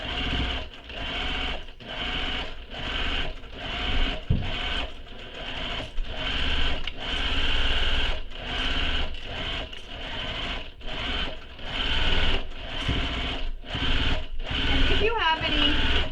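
A sewing machine stitches a backpack in a steady rhythmic chatter of rapid needle strokes, broken by short pauses between runs, with a person talking over it.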